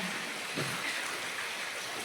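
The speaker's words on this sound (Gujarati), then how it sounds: "આ અડતાલીસ કલાક કઈ વરસાદ છે ચાલુ છે" Heavy rain that has been falling for 48 hours pours down in a steady, dense hiss, an even unbroken wash of sound with no clear pauses.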